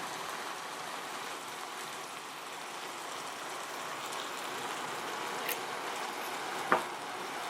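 White cooking wine hits a hot pan with fish, giving a soft, steady crackling sizzle like light rain, faint and even throughout, with a single sharp tap near the end.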